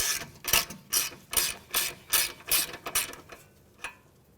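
Ratchet clicking as it turns a 14mm socket on a tie rod nut of a 2015-2019 Hyundai Sonata, about eight quick bursts of rapid pawl clicks in a steady rhythm, close and loud, then trailing off.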